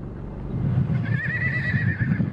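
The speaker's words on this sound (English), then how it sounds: "That's the sound of a healthy horse." A healthy horse neighs in a long, quavering whinny that rises and holds, close and clear, with a low rumbling undertone and no talking.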